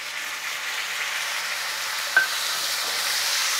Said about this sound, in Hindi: टमाटर के सॉफ्ट हो जाने तक प्याज के साथ हमें भूनना है।